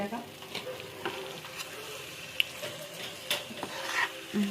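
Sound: stirring powdered sugar in a pan

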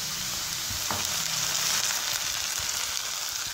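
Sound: ginger garlic paste frying with onions

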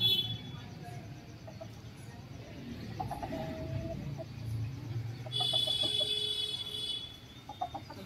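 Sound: chickens clucking while dust bathing in soil

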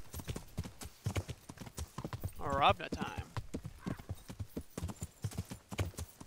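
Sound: horse hooves clip-clopping while riding, from a medieval video game

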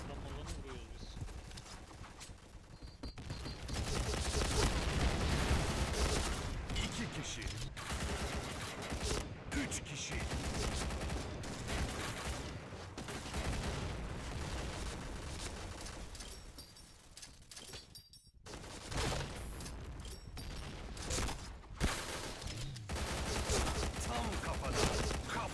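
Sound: P90 gunfire in the video game Point Blank

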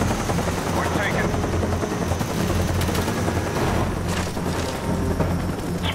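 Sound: Cobra attack helicopter arriving in Call of Duty: Black Ops video game

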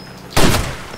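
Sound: gunshots in the video game Far Cry 2

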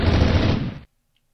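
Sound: gunfire in video game Minecraft

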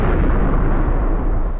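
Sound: film explosion sound effect

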